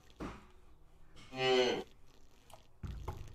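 A cow in the Hand Simulator video game moos once while being milked, a short low bellow flanked by faint handling noises.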